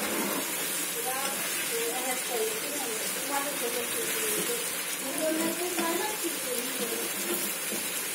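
Masala spices fry in a pan with tomato-based gravy in a home kitchen, giving a steady, close, hissing sizzle that runs continuously without pause.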